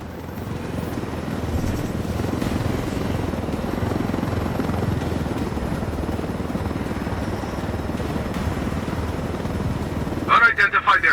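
Helicopter flying in the video game Tom Clancy's Ghost Recon Wildlands: a steady rotor and engine drone runs throughout at even volume, with a brief burst of clatter near the end.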